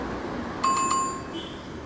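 A short bright ding-ding chime rings twice, clear and close, followed by a softer tone fading out.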